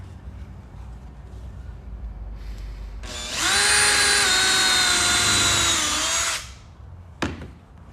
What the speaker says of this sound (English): Now I didn't let it ratchet too much because I don't want to strip the screw out.